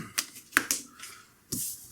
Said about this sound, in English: And then we'll shuffle this up.